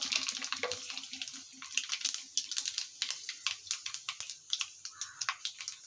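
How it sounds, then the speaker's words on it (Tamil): Mustard seeds splutter in hot oil for a prawn gravy, a fast run of sharp crackling pops over a low sizzle, close and fairly quiet. "கடுகு பொரிஞ்சிடுச்சு"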